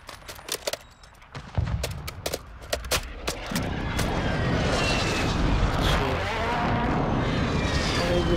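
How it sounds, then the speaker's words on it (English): Airstrike explosions in Call of Duty: Modern Warfare II: a few sharp bangs at first, then a heavy, sustained rumbling roar of blasts that swells loud and stays dense to the end, with no talking. "Enemy. Airstrike on the way."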